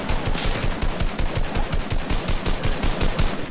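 Rapid, continuous automatic gunfire in a video game, dozens of evenly spaced loud bursts aimed at the player, with no speech.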